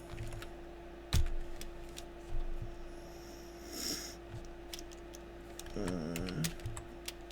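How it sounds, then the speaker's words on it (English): Keys on a computer keyboard tap out short, scattered clicks at low level, irregular in rhythm, in a quiet room with a faint hum and a brief vocal murmur near the end. "and I'll type this here"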